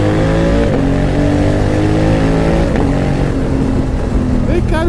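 A 2020 Honda Africa Twin 1100 adventure motorcycle engine revs hard and repeatedly, a loud, rasping roar rising and falling in pitch with sharp blips, close by.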